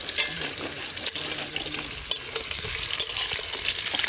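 Potato pieces frying in hot oil in a wok at an outdoor night picnic, a steady close crackling sizzle with occasional stirring scrapes and clinks throughout.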